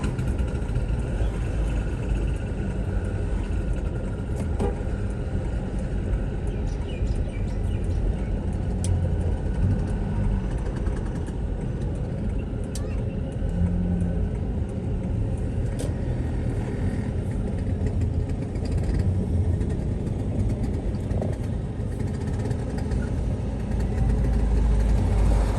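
Vespa scooters rolling past during a Vespa club anniversary gathering in Wonosobo, a steady, loud engine rumble and traffic drone that continues without a break, with no talk heard.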